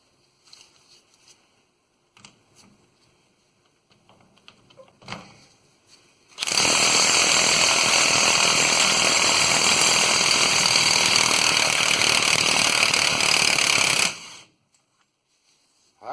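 A rapid rattling burst from a tool loosening the pinion nut on a 2011 Ram 2500 HD 6.7 Cummins axle, loud and continuous for about eight seconds after a few scattered clicks and knocks, then stopping abruptly.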